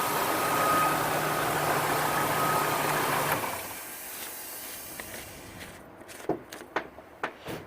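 A Ford F-250 pickup's new engine runs in a steady, loud hiss-laden idle up close, then drops to a quieter murmur punctuated by a few sharp knocks and clicks.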